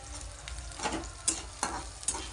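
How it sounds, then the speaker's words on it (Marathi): Onion and drumstick leaves sautéing in a pan, a soft, close sizzle with several scraping stirs of a spatula at intervals, no voices. "परतून घेते आता अजून जरा कांदा टाकावा लागेल"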